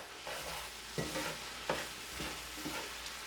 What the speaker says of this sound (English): So now we're just gonna stir